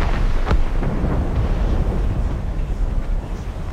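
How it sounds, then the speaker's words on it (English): Distant cannon fire deep in the fog in Assassin's Creed Rogue: a single muffled boom early on, then a low rumbling roar that lingers, heard alone. "Cannon fire. Deep within the fog."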